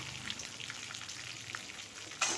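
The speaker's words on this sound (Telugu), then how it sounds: "ఇది వేగుతున్నది" Green and dried red chilies frying in hot oil in a pan, a soft continuous sizzle and crackle at low volume, with a brief sharper hiss near the end.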